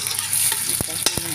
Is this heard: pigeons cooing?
no